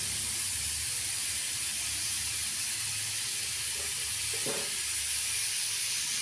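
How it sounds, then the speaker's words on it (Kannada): Radish fries in a pan with a loud, steady hiss that holds without a break. A single soft knock sounds near the middle. "ಚೆನ್ನಾಗಿ ವಾಸನೆ ಹೋಗೋವರೆಗೂ ಫ್ರೈ ಮಾಡಿ."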